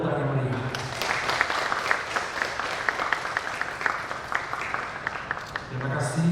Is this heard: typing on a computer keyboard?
no